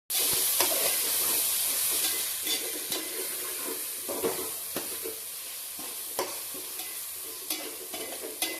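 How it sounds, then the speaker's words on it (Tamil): Coriander, mint and green chili sauté with ginger garlic paste in a pan for mushroom dum biryani, a continuous close sizzle broken by repeated scraping stirs at irregular intervals, no voices. "கொத்தமல்லி, புதினா, பச்சை மிளகாயும் அதில் போட்டுக்கலாம். ஒரு 5 நிமிஷம் நம்ம அதை வதக்கிட்டு"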